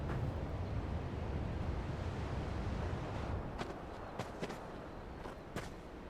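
Wind howls in Final Fantasy XVI on PlayStation 5, a steady, dense broadband rush with a few faint clicks and taps scattered across the later part.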